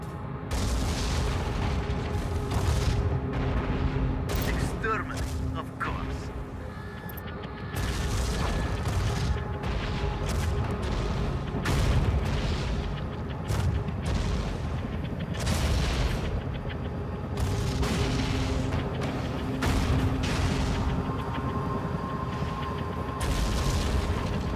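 Tom Clancy's EndWar battle at Ramstein: near-continuous gunfire and booming artillery, loud rolling volleys and heavy thuds with mechanical clatter, dense and close for the whole stretch with only brief lulls.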